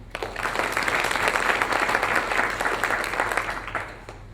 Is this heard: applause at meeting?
yes